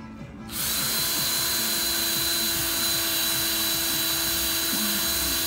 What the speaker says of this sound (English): Steel wool wound around a drill bit.